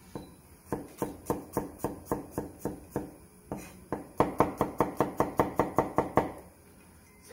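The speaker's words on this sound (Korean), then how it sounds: "마늘과 생강, 편으로 이렇게 썰어 주시면 되겠습니다" Garlic and ginger sliced into thin pieces with a knife on a cutting board, a steady series of crisp taps, slower at first and then quicker, close up with no talk.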